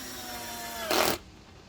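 An impact driver set to 10 drives a tapered 3/4-inch screw through a hinge into a 3/4-inch van cabinet panel: one brief, loud burst of rattling impacts, about a quarter second long, over a steady background hum.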